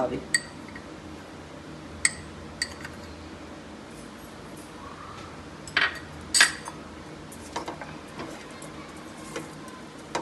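Spoon clinks and scrapes against a pot while badshahi pilaf of boiled rice and paneer is stirred and mixed, a few sharp metallic taps scattered over soft background noise, with someone talking.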